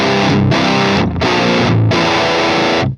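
Distorted electric guitar through an STL Tones Saratov M50 amp model on the boosted mod 3 setting, three loud chunky chord hits with short breaks between them, dense and aggressive.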